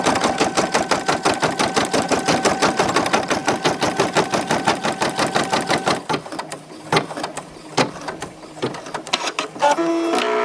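A Brother PE770 embroidery machine stitches an applique heart with a fast, steady mechanical chatter of rapid needle strokes. The stitching then slows into irregular bursts and short pauses, loud and close, with no talking.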